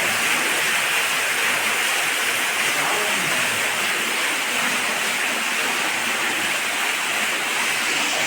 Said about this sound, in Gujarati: જોરદાર આવ્યો ભાઈ પાણી જો